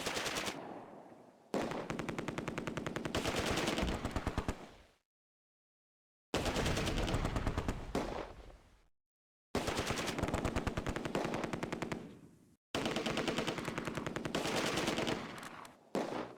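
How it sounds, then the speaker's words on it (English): Machine gun fire from the Close Combat: A Bridge Too Far war game, set in a Market Garden battle at Oosterbeek. Four loud, sustained rattling bursts are separated by short silences, with no voices. "We're under heavy fire."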